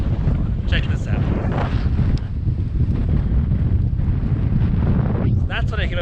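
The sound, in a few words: wind blowing over sand at Great Sand Dunes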